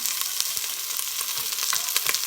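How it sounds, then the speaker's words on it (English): Kale sizzles steadily in a hot frying pan while being stirred, a dense close hiss with light intermittent scraping throughout. "So I'm still stirring around my kale."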